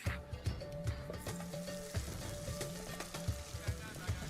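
Thai food sizzles and fries in a pan, a steady close crackle under a repeating tonal beat of background music.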